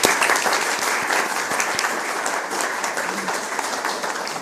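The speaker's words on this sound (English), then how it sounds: "I think we should give them a round of applause" An audience at a Liverpool City Council meeting applauds students, with steady, dense, fairly loud clapping throughout.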